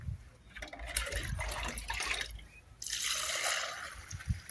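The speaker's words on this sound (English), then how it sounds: "You mix it with water, then you pour it into the main one in the bowl" Water pours into a bowl and is mixed with SLS at a liquid-soap-making workshop. Two bursts of close, fairly loud pouring and splashing are separated by a short lull, with some clinking and handling sounds at the end.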